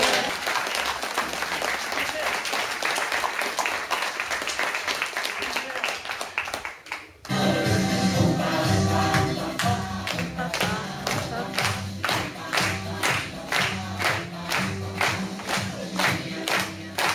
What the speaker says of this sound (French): on applaudit quand ça plaît